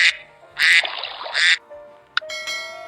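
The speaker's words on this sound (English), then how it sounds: "D is for duck." A duck gives a few loud, raspy quacks close up, one drawn out, followed by a short sharp call and a fainter trailing quack.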